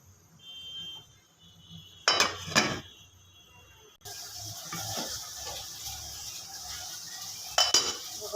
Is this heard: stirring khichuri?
yes